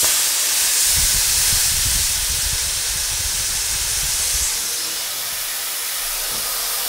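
Compressed air rushes in a loud, continuous hiss from an HVLP spray gun held at full trigger, steady throughout and easing slightly near the end.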